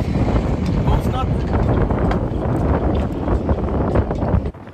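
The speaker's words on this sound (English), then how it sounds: "you can see, it's quite a bit of wind blowing." Strong wind gusting around a sailboat mast, a steady loud roar buffeting the microphone for several seconds before cutting off abruptly near the end.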